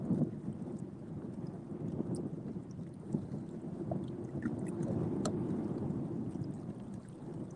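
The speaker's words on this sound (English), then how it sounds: "Wind is pretty brutal though." Strong wind buffeting the microphone on a lake during a December fishing outing at Lake Allatoona, a steady low roaring rumble that persists throughout with occasional small knocks and no talk.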